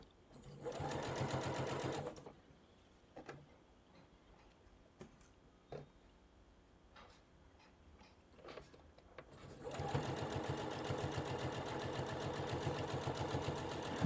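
A sewing machine stitching an elastic waistband at 3.5 stitch length runs in two loud, steady bursts, separated by quiet ticking and handling sounds.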